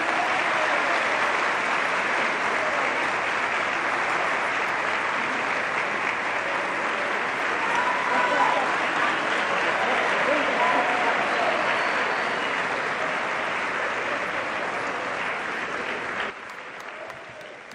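Audience applause at a mayoral candidates' debate as the candidates shake hands, a long steady burst of clapping from a crowd with some voices mixed in, easing slightly near the end.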